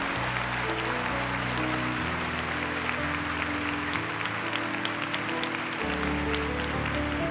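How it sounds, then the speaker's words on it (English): A high school audience claps steadily after a Be Our Guest number in a Beauty and the Beast stage production, a dense sustained wash of applause throughout. "And those people clapped."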